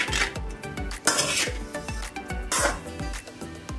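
A metal spoon stirs coconut pulihora rice in a pot, scraping and clinking against the sides in a quick, regular rhythm of loud, close strokes, with no one talking.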